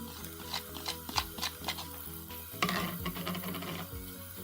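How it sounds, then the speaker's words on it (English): Two medium-chopped onions sizzle in a pan for West African chicken in peanut sauce, a steady close frying hiss with light stirring and clinks of utensils against the pan. "Into my pan, I've just got 2 chopped onions, about a medium chop."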